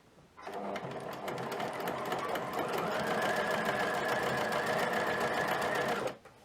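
A domestic sewing machine runs continuously as it stitches a hem in stretchy jersey fabric, a steady close whirring hum that starts after a brief pause and stops abruptly near the end.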